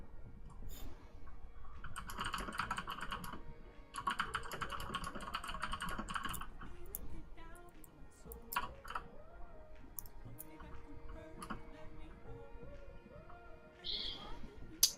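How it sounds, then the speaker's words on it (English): Fingers type on a computer keyboard in quick, busy bursts of clicking keys, close and clear, pausing now and then amid faint background sounds. "I know, it's lots of typing."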